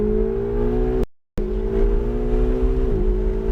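Ferrari 488 GTB engine at Pocono Raceway, droning loudly and steadily under light throttle, cutting out briefly for a moment before resuming, with a slight shift in pitch near the end.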